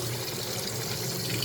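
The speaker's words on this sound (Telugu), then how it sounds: "వాటర్ సుమారుగా ఈ పీసెస్ మునిగే వరకు వాటర్ నింపుతా" Water pours steadily from a tap or vessel over chicken pieces being readied for chicken rice, a continuous close splashing rush with no pauses.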